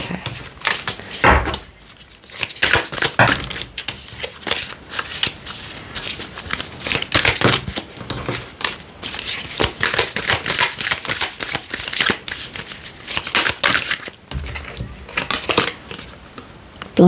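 Tarot cards are shuffled close up, riffling and sliding in dense crisp bursts with brief pauses between handfuls.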